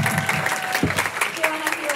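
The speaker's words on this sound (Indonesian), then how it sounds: "Mari kita berikan tepuk tangan dulu dong untuk Sir Jimmy." A church audience claps in a brief burst of applause, with a voice talking over it.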